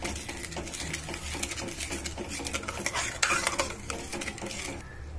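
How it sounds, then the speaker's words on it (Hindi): Milk and sugar cooking down into khoa for milk peda, stirred steadily in a pan with continuous scraping and light clinks of a spoon against metal, close and fairly quiet, no talking. "तब तक हम लगातार ऐसे चलाते हुए इसको पकाएंगे।"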